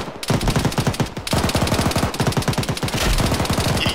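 A long, sustained burst of automatic fire in the Arma military shooter, loud and near, with rapid evenly spaced rounds running for several seconds and only a short break near the start.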